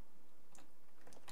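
A few keyboard keystrokes clatter close by, typing a command on a computer while flashing a Nexus 5 phone, in short clicks bunched toward the end.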